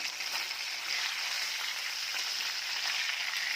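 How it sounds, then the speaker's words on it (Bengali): Fish frying in hot oil, a steady, even bright sizzle that holds at the same level throughout, close and continuous with no talk. "তেলটা গরম হলেই মাছটা উল্টাতে ভালো লাগে।"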